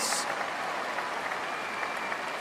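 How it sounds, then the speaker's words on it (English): Crowd applauding the winning handler and dog at the Scruffts final at Crufts, a steady burst of clapping filling the arena. "Ladies and gentlemen, a huge round of applause for Joshua and Biscuit!"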